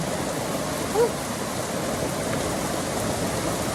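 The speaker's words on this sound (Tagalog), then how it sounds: "Ang lakas ng ulan dito." Heavy rain pouring down while travelling at Kawit Crossing, a steady, dense hiss of rainfall that holds evenly throughout without speech.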